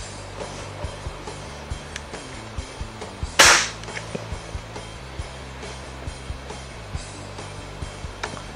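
A Gamo CFR air rifle fires a pellet with a single sharp crack about a third of the way in. Before and after it, quiet, regular ticks and light handling noises sound close by.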